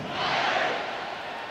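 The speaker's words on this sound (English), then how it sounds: "this crowd now ready to get behind them" Stadium crowd noise from College Football 26 at a Texas game, a steady broadband roar that swells slightly then holds, with no clear voices on top.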